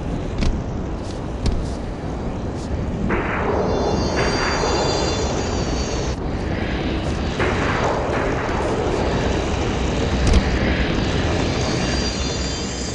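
A Falcon aircraft in a video game flies and lands with a steady engine roar throughout, overlaid by several higher whines and swooshes as it passes and comes down.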